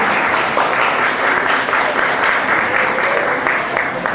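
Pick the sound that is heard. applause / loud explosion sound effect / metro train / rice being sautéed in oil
applause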